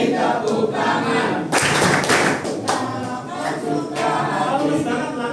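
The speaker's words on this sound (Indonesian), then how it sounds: "Kalau kau suka hati tepuk tangan." Indonesian schoolchildren in a classroom clap hands in time with the sung song 'Kalau kau suka hati', sharp rhythmic claps and taps over the children's singing voices, loud and close throughout.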